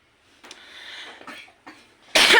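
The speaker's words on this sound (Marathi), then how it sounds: "खोकलं" A single sharp, loud cough bursts out at the end of a home recording, following quieter background talk and movement.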